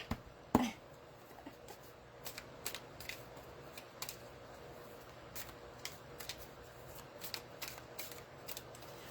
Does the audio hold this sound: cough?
no